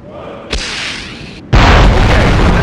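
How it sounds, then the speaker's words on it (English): A rocket fired at a tank explodes in the Conflict: Desert Storm II video game. A sharp pop comes first, then a sustained rumble, and a much louder, broadband boom bursts in and holds to the end. "Now launch your rocket at the tank"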